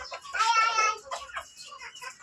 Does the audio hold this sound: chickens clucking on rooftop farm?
yes